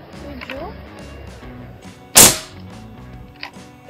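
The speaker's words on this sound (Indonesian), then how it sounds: "tembakan yang ke tujuh." One sharp, loud shot from a Ruger AWM Turbo PCP air rifle cracks out in the middle, with quieter background noise and faint handling sounds before and after.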